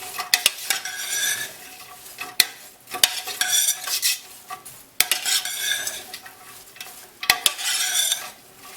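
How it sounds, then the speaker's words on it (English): Onions caramelizing in olive oil, stirred with a utensil that scrapes and clinks against the pot in waves, over a soft sizzle, with sharp metallic knocks at intervals. "Give it a good stir."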